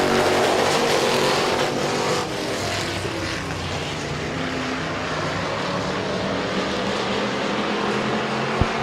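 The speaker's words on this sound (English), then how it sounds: "So the 3 of Grove has gotten around the 21 of Ritchie" Stock cars racing at Midvale Speedway, a continuous loud roar of engines with a steady broadband drone that holds throughout, swelling slightly at the start as cars pass.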